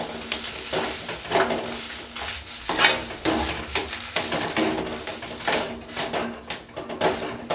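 Rajasthani mirchi vada mixture being stirred after green chilli powder is added, giving repeated close scraping and mixing strokes in an irregular rhythm, with no talking.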